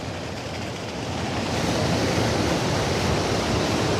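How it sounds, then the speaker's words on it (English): Floodwater is pumped out of a property in Mountsorrel after a river breached its banks. The water makes a loud, steady broadband rush that swells after the first second and a half, with no talking. "water pumping out there."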